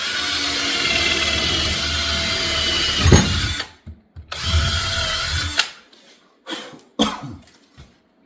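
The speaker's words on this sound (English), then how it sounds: "I drill 3 holes." A power drill whirs loudly and continuously at close range, drilling holes to mount whitetail antlers, stops, then runs again in a second long burst, followed by shorter bursts and a cough.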